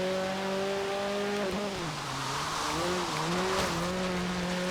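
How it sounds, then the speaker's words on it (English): Car drifting in Forza Horizon 3, with a steady engine drone whose tonal pitch dips and wavers as the tires squeal and skid through a sustained slide, loud and continuous for several seconds. "Drifting"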